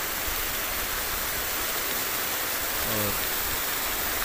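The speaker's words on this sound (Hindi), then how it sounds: "ख़ूबसूरत आबशार है बड़ी ऊंची है पानी भी काफ़ी बह रहा है" A tall waterfall in Mansehra pours heavily, a loud, dense, steady roar of rushing water filling the scene throughout, with a brief spoken word over it.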